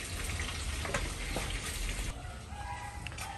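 Catfish fries in hot oil on a wood-fired stove, giving a dense, steady crackling sizzle close by that eases slightly toward the end, with no talking.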